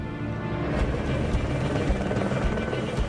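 A military helicopter flies low and fast over a war zone in Afghanistan, its rotor giving a loud, steady, throbbing roar with rhythmic blade thumps that hold close and constant throughout.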